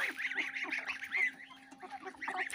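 Domestic geese honk in a farmyard, a quick run of nasal, overlapping calls that pause briefly and then resume, moderately close and fairly quiet.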